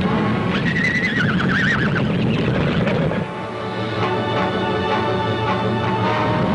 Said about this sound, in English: the chase goes on, and hills thunder with the beating of hoofs